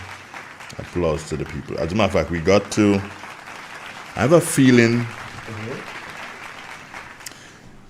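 Crowd applause at a political talk show, a steady wash of clapping running beneath a man's loud, continuous talking.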